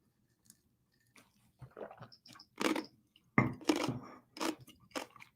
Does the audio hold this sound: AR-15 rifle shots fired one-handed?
no